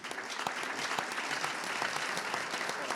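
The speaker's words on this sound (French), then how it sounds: "on peut vous remercier et vous applaudir" Audience at a conference talk applauding, a dense, even wash of many hands clapping at moderate distance, steady for the whole stretch and without voices.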